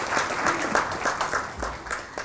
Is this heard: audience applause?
yes